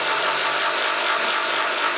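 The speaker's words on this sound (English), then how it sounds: "Now an impact driver is usually used for this," ToolPRO 18 volt impact driver running continuously, a dense, even rattling hammer that stays loud and close for the whole two seconds with no pauses or talking.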